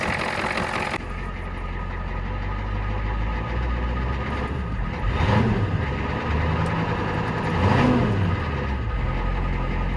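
A Ford F250 with a 6.9 IDI diesel engine runs on a new electronic fuel pump, a steady close clatter and rumble that rises twice in brief revs.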